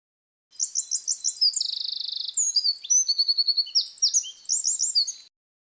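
Synthesized wren song made from varied electronic notes: rapid high trills, a buzzy rattle and quick repeated chirps run as one continuous phrase of about five seconds, clean and alone with no other sound.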